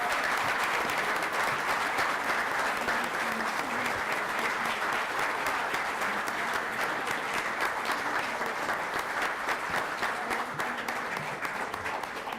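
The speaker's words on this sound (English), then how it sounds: "that applause is so valued and necessary" A city council meeting audience claps for an award presentation, a long, even, dense round of applause holding steady at full strength for over twelve seconds, no speech on top.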